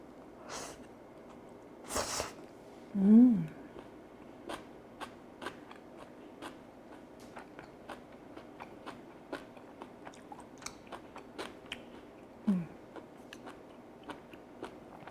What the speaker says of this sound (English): my first bite, I'm gonna have it with the bulgogi and a little bit of vegetables together